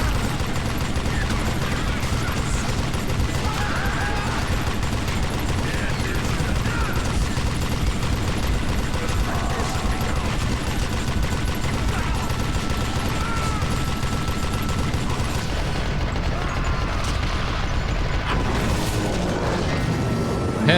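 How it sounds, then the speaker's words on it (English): Gatling gun firing in the Western shooter Call of Juarez Gunslinger, a dense, continuous roar of rapid gunfire with booming impacts, loud and sustained for about twenty seconds with voices faintly mixed in. "Gatling gun."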